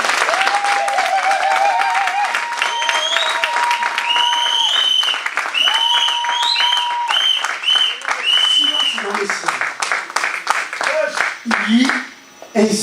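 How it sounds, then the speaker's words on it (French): A church congregation applauding and cheering for Jesus: loud, sustained clapping mixed with shrill whistles and shouting voices, tapering off toward the end. "Encouragez-moi à acclamer pour Jésus."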